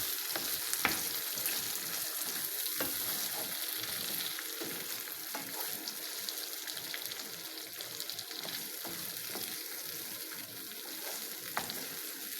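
Kibda sizzles and fries in a pan while ingredients are stirred in, a steady crackling hiss with scraping stir strokes, close and continuous, no voices.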